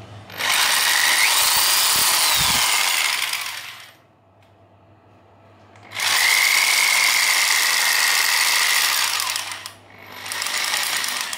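A mini electric wood carving machine whirs with a high, smooth motor whine in two long runs separated by a quiet pause, then starts up again near the end, close and fairly loud.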